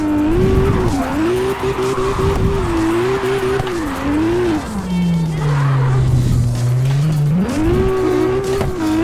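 A drifting car in the CarX racing game, its engine note rising and falling through revs under loud, continuous tire squeal and skidding, with no talk over it.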